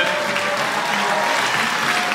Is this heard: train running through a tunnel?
no